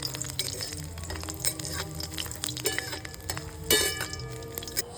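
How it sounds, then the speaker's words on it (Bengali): Garlic fries in oil after nigella seeds, stirred with a metal spatula: a close, moderate sizzle broken by clinks and scrapes of the spatula against the pan. "রসুনটা দিয়ে দিলাম তেলের মধ্যে, দিয়ে খুন্তি দিয়ে নেড়ে নিলাম"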